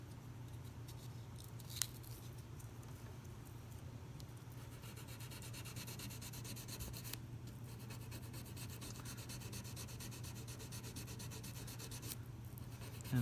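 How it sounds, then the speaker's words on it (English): Guitar frets being smoothed with 400 grit sandpaper, a soft continuous rubbing and scraping at close range, quiet and even throughout with a low steady hum beneath. "Now I'm moving up to 400."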